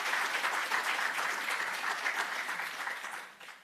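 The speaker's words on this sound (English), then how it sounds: "So I'd like for us to give Professor Thorpe a round of applause" An audience at an educators' data protection training awards ceremony applauding Professor Thorpe, a full, steady round of clapping from a crowd that tapers off toward the end.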